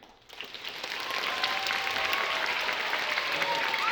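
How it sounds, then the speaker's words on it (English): A studio audience gives a big round of applause to welcome actor Josh Gad before a story reading, the clapping rising after a brief quiet start and holding steady and dense. "I want a big round of applause to welcome him out here."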